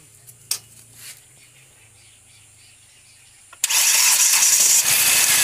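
A Hyundai Xcent car engine cranks and catches while jump-started from a motorcycle battery, a few faint clicks first, then a sudden loud, steady roar of the running engine close by.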